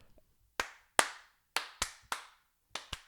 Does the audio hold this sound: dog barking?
no